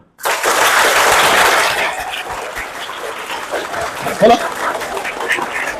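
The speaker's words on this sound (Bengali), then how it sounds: "একটা জোরে আমি হাততালি চাইবো সেটা হচ্ছে আমাদের প্রত্যেক মায়ের জন্য" Audience clapping in a hall, a loud burst of applause that fades after about two seconds into lighter scattered claps and crowd noise.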